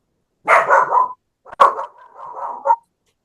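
A dog gives two drawn-out, wavering cries, whining and half-barking, close and fairly loud, with a short pause between them.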